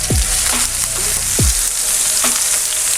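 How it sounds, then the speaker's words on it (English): A loud, steady sizzle of ribeye steaks frying in a hot pan, hissing continuously with a couple of brief clinks and scrapes, no talking. "When you put the steaks down, you hear a good sizzle."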